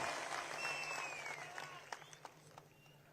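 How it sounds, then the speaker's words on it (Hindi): A crowd at a large political rally in Satara, Maharashtra applauds steadily, a dense wash of clapping at moderate distance that thins toward the end, with a few sharper individual claps. "तालियां बजाइए इनके लिए"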